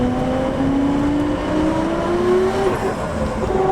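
A Nissan Skyline GT-R R32 pulls steadily under acceleration, a rising gear whine climbing in pitch over a constant broadband exhaust rumble, close and fairly loud.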